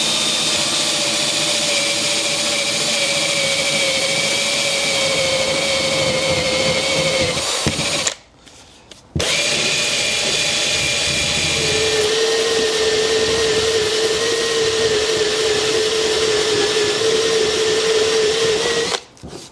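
A rubber eraser wheel on a power drill removes stickers from a VW Golf bumper in freezing weather, giving a loud, steady whining drone with a rough grinding edge. It runs for about eight seconds, stops for a second, then resumes and changes pitch.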